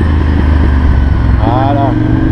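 A Ducati Monster 796 motorcycle engine runs loud and close, held at high revs, then the throttle eases off gently and the rumble softens with a brief falling whine.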